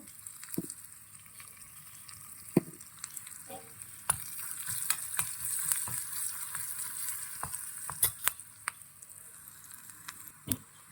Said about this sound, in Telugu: జీలకర్ర, మినప్పప్పు, శనగపప్పు, ఎండుమిరపకాయ, కరివేపాకు వేసుకొని ఫ్రై చేసుకోవాలండి